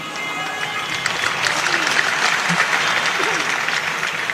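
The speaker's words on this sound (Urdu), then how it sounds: "آپ تالیاں بجا سکتے ہیں، کنجوسی مت کیجیے۔" An audience at a mushaira for Independence Day claps in a steady wash of applause that swells after the first second and holds, moderately loud, with some background voices.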